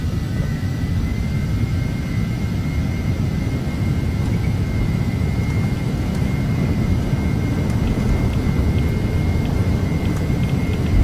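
The engines of an Embraer jet in Flight Simulator X give a steady, loud roar with a thin high whine running through it, constant and unchanging as the aircraft sits before takeoff.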